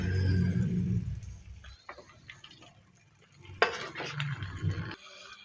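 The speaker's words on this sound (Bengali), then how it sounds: "চিকেনগুলোকে এবার ভালো করে আমি কষিয়ে নেব মশলার সাথে" Chicken pieces being stir-fried with spice masala in a pan, a soft sizzle with scraping and clinking of a spoon against the pan, quiet and intermittent with a louder stirring burst midway; no talking.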